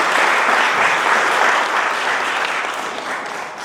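Wedding guests clapping in a dense, sustained burst of applause that fills the room, steady and loud throughout before easing slightly toward the end.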